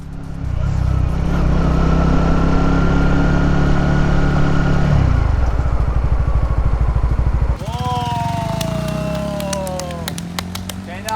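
Motorcycle engine running loud and close in second gear, a steady low rumble that shifts pitch partway through and then climbs as it revs; people talk and cheer over it.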